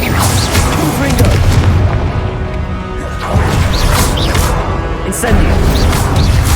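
Loud, dense booming blasts from the Confringo explosion spell in Hogwarts Legacy during a fight, crashing in bursts with short dips between them and faint voices mixed in.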